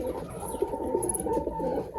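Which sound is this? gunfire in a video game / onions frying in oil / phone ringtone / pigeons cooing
pigeons cooing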